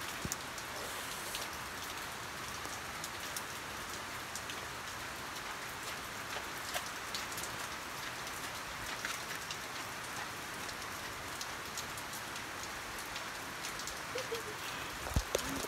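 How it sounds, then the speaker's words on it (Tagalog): Steady rain falls on surfaces outdoors, a dense continuous patter with scattered close drips, heard alone at moderate level. "So rain."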